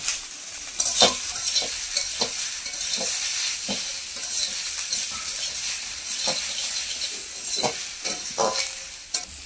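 Brinjal and tomato fry in oil in a pan for mustard-poppy mourala fish curry, giving a steady hiss and sizzle broken by a few sharp scrapes and taps as the pieces are stirred nearby.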